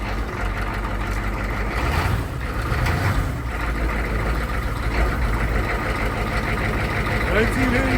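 A 1985 International 1654 truck with a 6.9 IDI diesel idles after a cold start, a steady low rumbling clatter heard up close and continuous, with voices talking over it.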